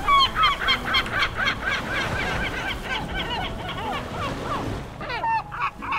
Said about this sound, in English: Now we're gonna play and listen to this with our ambience and seagulls.